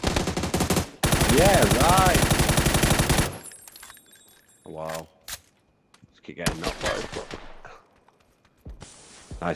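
Automatic gunfire in PUBG: Battlegrounds, with a loud sustained burst of rapid shots followed by shorter scattered bursts and a few sharp single reports, some nearer and some farther.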